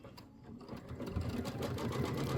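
Embroidery machine stitching a tack-down line in bold contrasting thread for a Kimberbell Thanksgiving pillow, a continuous close mechanical hum and buzz with fast repetitive stitching texture throughout.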